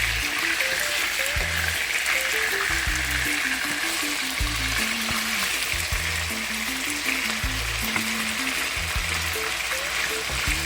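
Chicken pieces browning in a hot pan for Jamaican chicken pasta, a loud continuous close sizzle with brief scraping and turning sounds, joined by a soft low background melody.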